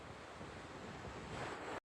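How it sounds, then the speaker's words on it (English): Skogafoss waterfall in Iceland roars as a steady, dense rush of falling water, loud and unbroken before cutting off abruptly, with no voices. "this is a very famous waterfall. This is Skogafoss."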